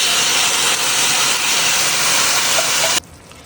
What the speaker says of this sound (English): Now that those vegetables are sauteed, I'm just gonna add some diced tomatoes.